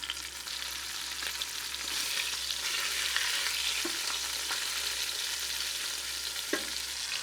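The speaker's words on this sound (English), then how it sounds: "I'm going to even sear the ends" Beef searing in a Ninja Foodi pot, the ends pressed onto the hot surface, makes a steady, close, continuous sizzle with a couple of brief sharper pops and no voices.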